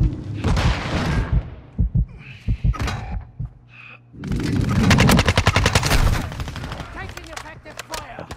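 TR-76 Geist rifle fire in Modern Warfare 2 in rapid automatic bursts, loud and close, layered with game effects and someone talking over the shooting.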